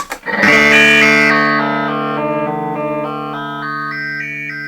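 A guitar played through a Dunlop ring modulator pedal, producing metallic, clangy, inharmonic tones that sustain and slowly shift in pitch after a sharp attack.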